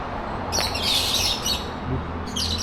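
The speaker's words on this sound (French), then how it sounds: "Les oiseaux qui foutent du bordel." Noisy birds chirp and squawk in Bangkok, bursts of shrill calls coming in waves over a steady street background, fairly close and loud.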